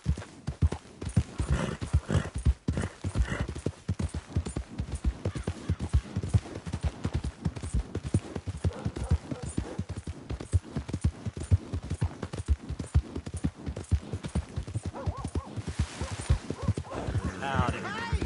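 A horse in the Red Dead video game, with clip-clop hooves trotting in a steady rhythm close by and a brief whinny near the end, under dense game sound and a voice talking.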